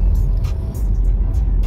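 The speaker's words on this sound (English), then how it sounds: "I'm driving a Tesla," A dual-motor Tesla electric car, front and rear motors, drives along with a steady low road rumble and tyre noise heard from inside the cabin, loud and continuous, with no talk.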